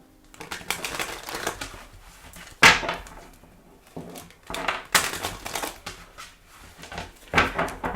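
Tarot cards shuffled by hand in several separate bursts of crisp riffling and slapping, with quiet pauses between them, close and fairly soft.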